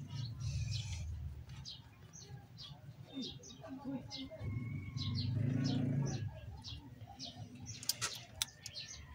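Pigeons coo softly in low, murmuring bursts, with chirps and scattered rustling around them.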